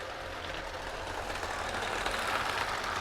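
A small LEGO freight train rumbles steadily along its track with a continuous, soft whirring rattle at moderate volume.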